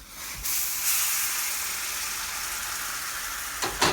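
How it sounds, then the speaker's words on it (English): Boiling water is poured carefully onto chili powder for New Mexican red chili, a loud close sizzling hiss that swells quickly and holds steady for a few seconds, with a soft knock near the end. "I'm going to add this water to the chili powder nice and carefully"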